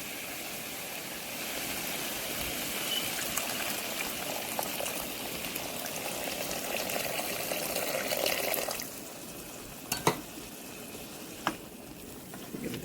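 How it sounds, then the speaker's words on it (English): Water streams into a pot of cooking potatoes for channa and aloo, a steady hissing, bubbling wash that runs for several seconds, then drops away, leaving a few sharp clinks and taps of utensils against the pot. "I'm going to add some water."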